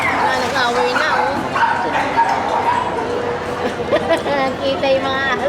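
Several dogs scuffle nearby, with loud bow-wow barks, yips and high whimpers overlapping in a chaotic tangle while people talk over the commotion.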